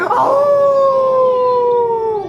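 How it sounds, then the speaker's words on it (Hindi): A single long dog howl from a sound effect, loud and close, rising briefly and then holding a steady wavering tone for about two seconds before trailing off, with no other sounds around it. "फिर कुत्ते भौंके"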